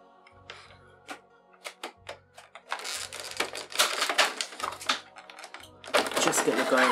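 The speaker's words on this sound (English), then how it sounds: "we're gonna very gently cut this one out of the packaging." Scissors or a blade snip and cut through plastic packaging to free a 1/18 scale Zuniceratops dinosaur figure, giving sharp clicks, crinkles and scraping bursts, with occasional talking.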